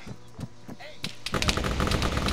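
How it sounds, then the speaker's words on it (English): Sharp gunshots crack in quick succession in Arma 3, building into a dense burst of rapid fire near the end. "after gunshots are heard, raises up the stress level"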